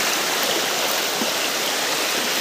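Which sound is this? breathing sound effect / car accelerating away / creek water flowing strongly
creek water flowing strongly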